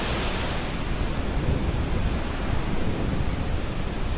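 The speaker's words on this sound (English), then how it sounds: "just a wonderful feeling. All these waterfalls." Waterfalls at Kaieteur Falls, Guyana: a dense, steady roar of rushing, crashing water, loud and unbroken, filling the scene with no talking.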